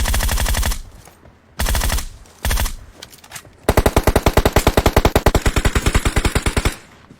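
Automatic gunfire in PUBG Mobile: loud, close bursts of rapid shots, two short volleys and a brief one, then a long sustained rattling burst of evenly spaced rounds.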